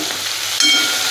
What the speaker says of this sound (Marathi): तेलामध्ये कोथिंबीर आणि कढीपत्ता ही एक ते दोन मिनिट परतून घेऊया